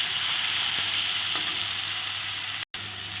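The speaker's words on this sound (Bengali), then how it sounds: "একটু তেলে এখন ভেজে নেব" Chopped ingredients fry in a little oil for a boal fish head curry, giving a steady, close sizzle and hiss that runs continuously with a brief cut near the end.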